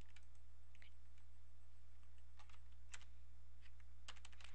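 Soft, scattered keystrokes tap on a computer keyboard, a few isolated clicks and short bursts of typing over a steady low electrical hum, quiet and close with no voices.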